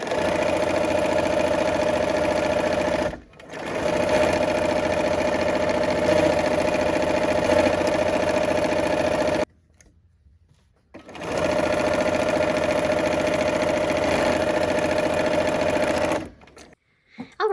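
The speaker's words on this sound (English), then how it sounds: "let's go ahead and sew" A sewing machine stitches quilt pieces for a flag-themed quilt, running in long, steady, loud stretches of fast mechanical whirring broken by two short pauses.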